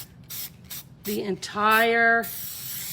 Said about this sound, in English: I'm gonna take this gold Krylon spray paint, okay?